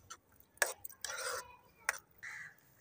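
Spoon stirring and mixing liver with freshly ground whole black pepper in a pot, a few distinct scraping and clinking strokes with short pauses, close and fairly quiet.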